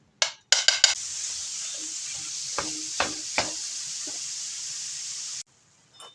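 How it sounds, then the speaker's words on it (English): Ghee sizzles in a frying pan with a steady, close hiss for several seconds, broken by a few soft clinks and stirring taps before it cuts off. "So I'm just going to put a little bit of ghee in the frying pan."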